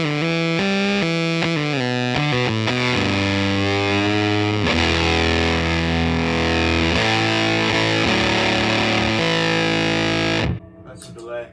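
An electric guitar played through an Illinois Rail Splitter harmonic percolator fuzz pedal snarls with thick, buzzy distortion, starting with picked notes and moving into sustained chords before cutting off near the end.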